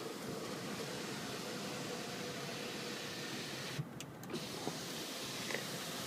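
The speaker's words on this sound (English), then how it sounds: "when the moonroof moves like that" Moonroof motor on a 2007 Ford F150 King Ranch, a smooth continuous whir heard from inside the cab, steady and fairly quiet with a couple of soft clicks near its end.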